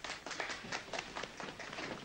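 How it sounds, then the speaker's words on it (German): Guests applaud in a film scene, a fairly faint, brisk patter of many hands clapping that holds steady throughout with no talk over it. "Danke für den Applaus."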